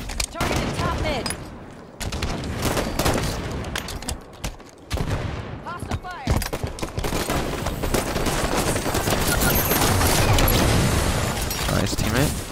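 Gunfire in Halo 5 competitive multiplayer: dense bursts of automatic weapon fire and shots, loud and continuous, with a player talking over the action.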